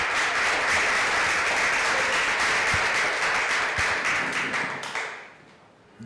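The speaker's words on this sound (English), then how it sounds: "Let's give a round of applause for him." An audience at a high school poetry awards event gives a poetry reader a sustained burst of clapping that holds steady and then fades out near the end.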